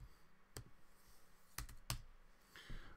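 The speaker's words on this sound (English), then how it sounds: "I'm just going to type it up." Typing on a computer keyboard in a quiet room, a few sharp isolated key clicks spaced apart over low background hiss, faint and close.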